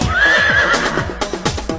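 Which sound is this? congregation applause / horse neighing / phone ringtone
horse neighing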